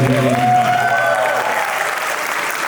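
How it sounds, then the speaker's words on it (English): Audience applause at a music night event, a dense sustained clapping with a faint voice early on, steady and fairly loud before easing slightly toward the end. "A big round of applause for everybody."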